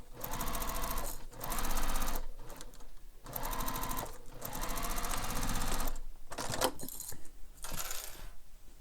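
A sewing machine stitches bag pieces together in several loud mechanical bursts of rapid stitching, separated by brief pauses, with no talk.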